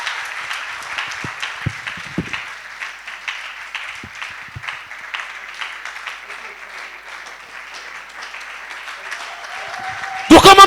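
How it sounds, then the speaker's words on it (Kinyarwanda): A church congregation applauds during a service, sustained dense clapping lasting several seconds, with voices present beneath and a louder burst at the very end. "You can clap more your hands."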